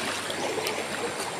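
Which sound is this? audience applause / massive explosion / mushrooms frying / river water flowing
river water flowing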